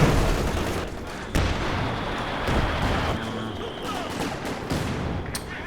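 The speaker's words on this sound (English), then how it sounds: "Machine gun is going to suppress both these shock troopers" Machine gun fire rattles through a chaotic Company of Heroes 2 4v4 battle, dense and loud, mixed with explosions, artillery rumble and constant battlefield noise.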